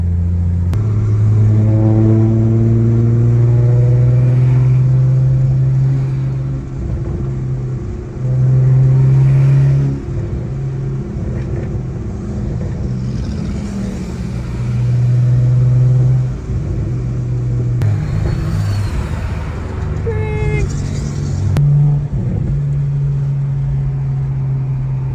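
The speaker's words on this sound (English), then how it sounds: "His turbo sounds so good." A single-turbo BMW 335i engine accelerates on a night drive, a steady mid-pitched drone with rising harmonics that swells and settles through several throttle pulls, heard close from inside the car with no talk.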